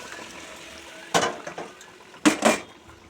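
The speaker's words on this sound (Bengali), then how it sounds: "মশলাটা শুকিয়ে আসলে সেদ্ধ করা ডালটা ওর উপর ঢেলে দেবো" Boiled mung dal poured over spices in a hot pan, two short splashy bursts with a quiet sizzle and faint utensil sounds between them, fairly close.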